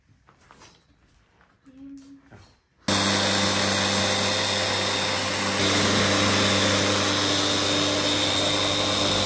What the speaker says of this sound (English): Now we're sanding!